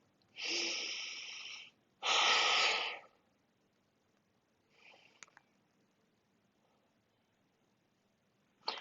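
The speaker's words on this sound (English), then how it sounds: "5 slow, deep belly breaths." A person takes slow, deep belly breaths, two long loud breaths close by, followed by a fainter shorter breath and a quiet pause, during a foot stretching routine; no talking.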